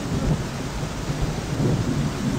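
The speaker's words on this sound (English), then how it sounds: "Oh, I just seen a lightning strike." Thunder rolls from a lightning strike in the Deadliest Catch video game, a dense, steady rumble mixed with rain noise, loud and continuous for a couple of seconds.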